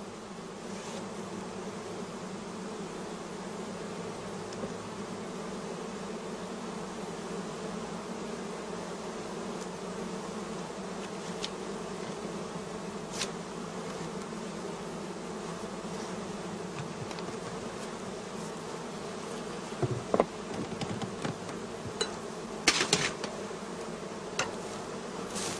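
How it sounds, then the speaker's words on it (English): Bees buzzing around beehive frames as the colony is let out to fly, a steady dense hum close by with occasional louder passes of individual bees near the end. "Next, we open the entrance holes and let the bees fly."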